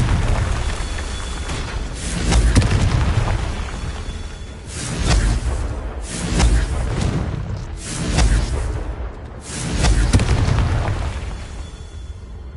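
Fiery Confringo spell blasts in Hogwarts Legacy, a series of about five loud, booming explosions with rolling, crackling tails, coming every couple of seconds over a constant game backdrop.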